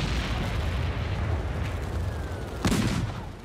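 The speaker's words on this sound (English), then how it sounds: "Concealed guns opened fire." Concealed WWII Soviet artillery guns open fire in the Caucasus: a dense, continuous rumbling roar of gunfire with a sharper, louder blast near the end.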